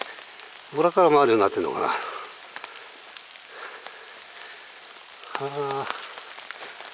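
Rain falling steadily at a hillside shrine, a soft continuous patter and hiss while someone speaks briefly over it, with quiet gaps of rain alone in between.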